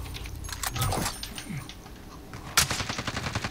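Gunshots in the Warzone video game, several sharp cracks at close range with one loud report about two-thirds through, over busy game noise.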